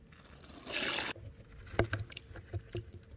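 Chicken and its cooking water are poured into a strainer, giving a short gushing splash followed by scattered drips and light knocks as it drains, with no talk.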